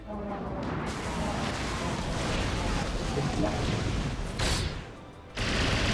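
Bombs going off in a Star Wars galaxy-of-heroes style video game battle, a dense, continuous roar of blasts and crackling impacts, loud and sustained with a brief dip near the end before surging again.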